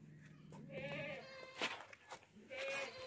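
A dairy goat offered for sale at a livestock market bleats several times, its wavering cries coming near and clear, with faint voices and market noise in the background.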